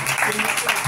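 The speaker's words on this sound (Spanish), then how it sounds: "Fuertes aplausos, bonito para Sofi." Guests at a quinceañera celebration with a mariachi band give a brief burst of steady, close applause, with a voice speaking over it.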